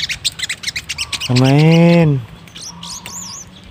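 Sogon birds calling from treetops: a rapid series of sharp chirps, then a long loud harmonic squawk, followed by fainter whistled notes, with a brief spoken word nearby.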